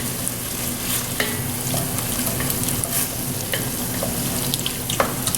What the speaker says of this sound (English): I want that tomato paste to saute with those vegetables